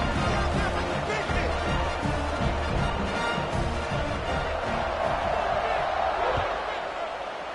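Football stadium crowd at a Louisville game roaring steadily through a kickoff, a dense sustained wash of cheering and voices with a few louder swells, fading slightly at the end.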